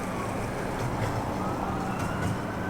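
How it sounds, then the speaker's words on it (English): Emergency vehicle sirens wail steadily at night in a city area near Lake Avenue, a distant, continuous wash of noise with faint rising tones, heard under a longboarder's surroundings with no talk. "A lot of sirens tonight"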